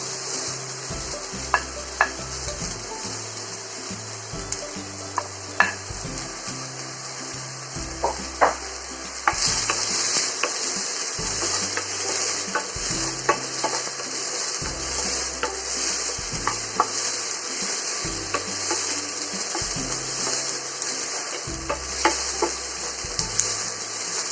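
Sliced onions sizzle steadily in hot oil in a pan, with repeated scraping stirs of a utensil forming a rhythmic pattern; no talking, just continuous close frying.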